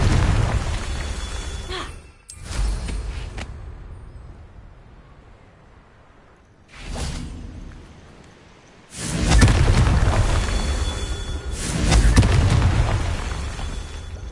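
Confringo blasting spell detonating in Hogwarts Legacy: several heavy explosive bursts with deep booming bodies, the loudest two in the last third, separated by quieter stretches of fading rumble.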